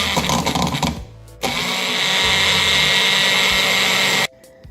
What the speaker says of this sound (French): Mais moi, j'ai sorti mon batteur électrique.